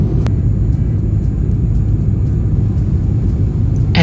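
Inside the cabin of a Qantas Airbus A330-200 on approach and landing into Sydney, a loud, steady low engine and airflow rumble fills the space, with a brief click near the start and a sharp rustle at the end.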